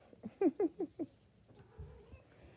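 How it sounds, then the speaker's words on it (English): A small cat gives a quick run of four short meows close by, indoors at night, followed by faint shuffling and quiet movement. "What do you want, you little cat?"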